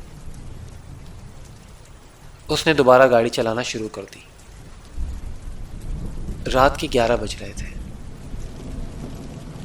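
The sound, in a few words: heavy rain and thunder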